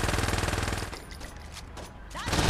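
Video game gunfire from Saints Row 2: a dense fusillade of rapid shots up front, thinning into scattered, quieter pops mid-clip before a loud burst of firing returns at the end.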